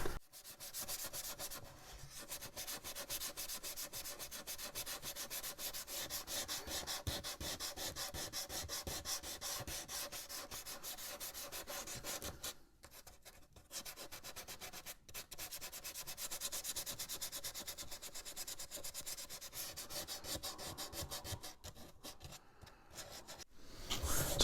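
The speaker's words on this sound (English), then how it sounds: "So I spent about 5 minutes just giving it a first sand." Hand sanding of the wooden stern of an HMS Victory model ship gives continuous close, rhythmic scratchy rubbing strokes, steady for most of the time with a couple of brief pauses.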